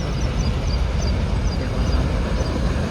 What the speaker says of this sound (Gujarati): રેલગાડી જઈ રહી છે